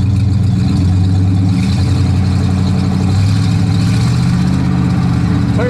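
A 1958 DeSoto Firedome Sportsman two-door's engine runs loud and close, with a steady low idle rumble whose pitch rises and falls through several revs without any talk.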